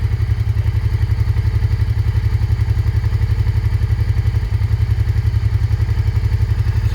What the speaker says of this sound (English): Just a nice sounding bike. Really nice sounding bike.